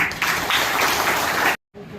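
Dense crowd applause at a ceremony honouring teachers rings out steadily for about a second and a half, then cuts off abruptly, followed by a faint, quiet room tone with what may be murmuring voices.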